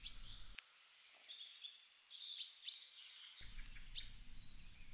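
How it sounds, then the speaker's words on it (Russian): A grey-headed woodpecker calls in a woodland setting, giving a few faint, brief, high notes spaced over several seconds against quiet background sound. "Это седой дятел."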